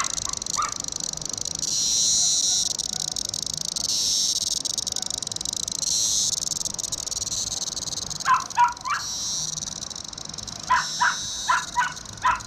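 Cicadas on a tree give off a steady, loud, high buzzing drone throughout, with a few short sharp bird-like calls breaking through in bursts near the end.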